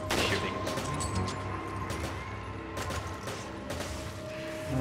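Rapid bursts of gunfire from the Resident Evil 5 video game, sharp repeated shots in clusters over a steady game background, fairly loud with no clear talking.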